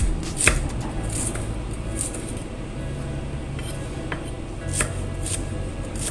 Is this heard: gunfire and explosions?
no